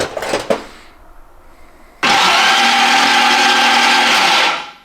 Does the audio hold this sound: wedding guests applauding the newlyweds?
no